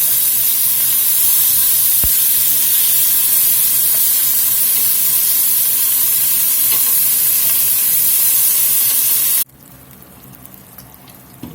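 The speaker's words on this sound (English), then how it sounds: "we're just doing this in a few batches until we get all this browned off real nice" Beef pieces for grillades sear in a hot pan with a loud, steady, close sizzle that holds for about nine seconds, then drops sharply to a quieter crackle, with no talking.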